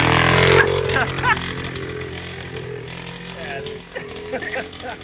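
A Honda Z50 minibike's small engine runs roughly and barely stays alive, giving a low uneven putter with people talking over it nearby.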